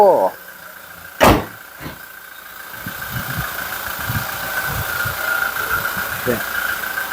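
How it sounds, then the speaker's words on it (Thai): A black-grey 2017 Toyota Hilux Revo Smart Cab with a 2.4 litre engine idles steadily and close by, after a single sharp door thump near the start. "ยังลืมเสียงเครื่อง ฟังห้องเครื่อง"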